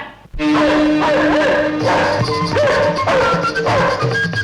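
A dog barks repeatedly in quick, excited bursts while chasing someone, loud and close, with yips mixed in.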